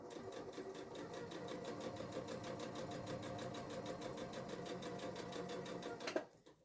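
A sewing machine stitches a diagonal line across fabric strips, running steadily at an even rapid pace close by for several seconds and then stopping abruptly.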